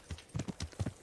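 A short burst of galloping hoofbeats from a horse ridden cross-country in Kingdom Come: Deliverance, a few quick, close clops in an uneven rhythm.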